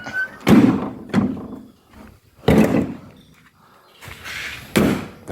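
The front hood of a used Hino FD1J six-wheel truck with a J08C engine being worked by hand: a series of about five loud metallic thunks and clanks spaced across several seconds, close up.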